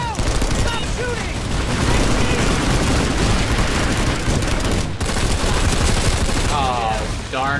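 Rapid bursts of automatic gunfire and explosions from the video game Planetside 2 fill the whole stretch, dense and loud with almost no break, while players shout over the shooting.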